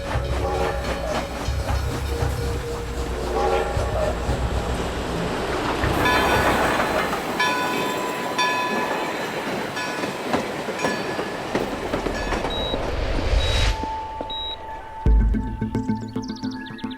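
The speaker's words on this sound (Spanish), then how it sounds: "Hasta allí llegaba, 2 veces al día, el ferrocarril del oeste, rebautizado Tren de los Muertos" A western railway train runs past, with a loud rumbling roll, clattering wheels and a sustained whistle-like tone near the end, steady and close.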